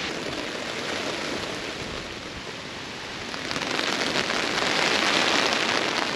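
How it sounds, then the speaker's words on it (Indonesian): Heavy rain pours down in a garden landscape in front of a house with a pear tree and strawberry plants, a dense, loud, continuous roar that swells louder in the second half, with no voices. "Masya Allah, hujan lebat."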